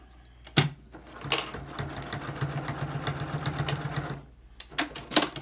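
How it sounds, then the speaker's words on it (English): A machine sews in one continuous run of rapid needle chatter along the edge of a fabric face mask, framed by sharp clicks and handling noises before and after. "I'm just going to stitch along this edge"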